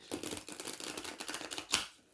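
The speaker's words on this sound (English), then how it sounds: "So I'm just going to shuffle the cards" Oracle cards being shuffled by hand, a run of quick papery riffles and flicks close to the microphone with one sharper snap near the end, alone without talk.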